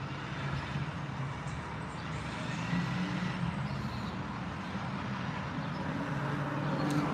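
A garbage truck rolls past on a residential street, its diesel engine droning at moderate distance with a faint hiss and brief beeps, steady throughout with no voices.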